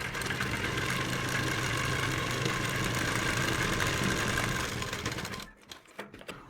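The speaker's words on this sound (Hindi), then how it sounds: "यहाँ पर डबल सिलाई लगानी है।" A sewing machine stitching a double seam on a suit kameez gives a rapid, continuous mechanical whirr for about five seconds, then stops, leaving only faint handling noises.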